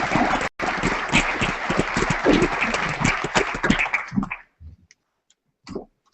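Audience applause welcoming a speaker at a public meeting in a theatre, a dense sustained clapping from a crowd that fades out after about four seconds, followed by quiet with a few faint sounds.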